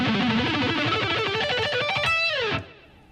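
Fast distorted electric guitar lick running through a pentatonic pattern, dense rapid notes climbing to a high sustained bend before stopping abruptly, loud and alone.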